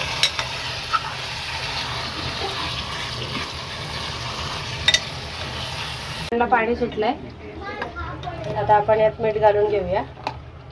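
Chicken hitting hot oil and ground masala in a pan, a steady sizzle with stirring for several seconds before a voice talks over a quieter cooking background.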